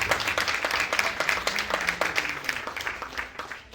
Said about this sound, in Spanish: Dale la ofrenda de aplauso a Cristo, que es el que la merece.